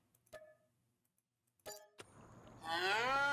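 Cattle mooing in the video game Farming Simulator 25 at a cow building, a short low moo followed by a longer, louder drawn-out moo rising at the end, with faint ticking before it.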